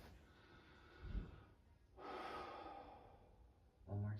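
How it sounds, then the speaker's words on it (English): Slow, deep breaths from a patient during a medical assessment: a short sharp intake, then a longer exhale, followed by another breath at the end. Each is faint and close to the microphone. "take a deep breath in and a deep breath out"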